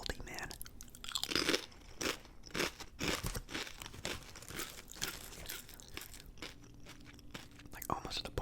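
Salty crunchy chips from Panera being eaten up close, with repeated loud crisp crunches and crinkling bites in an uneven chewing rhythm and no talking.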